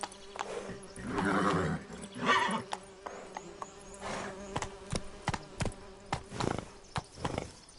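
In The Witcher 3, a horse whinnies loudly over clip-clopping hooves and a faint insect buzz, followed by scattered sharp thuds and clicks.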